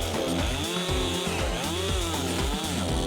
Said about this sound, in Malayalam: രണ്ടും കൽപ്പിച്ച് മരം മുറിച്ച് തുടങ്ങുകയാണ്